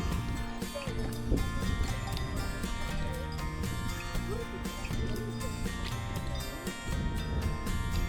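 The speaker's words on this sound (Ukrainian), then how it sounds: "О, там і коні воно зверху є." Rhythmic clip-clop of horse hooves with occasional faint whinnies and farm animal calls, set against a dense, busy background on a mountain pass in the Carpathians.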